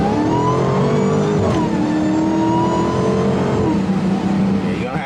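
Dodge Hellcat engine revving and accelerating, a loud, close, continuous engine drone rising and shifting in pitch across the whole stretch, with voices talking over it.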